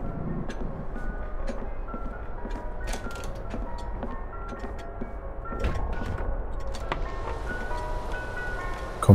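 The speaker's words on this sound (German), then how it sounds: "Kommt er jetzt wieder mit seinem Eiswagen?" Ice cream truck jingle in the horror game TheNightfall, a faint tinkling melody of short tonal notes drifting under a dense ambient background throughout, with no speech.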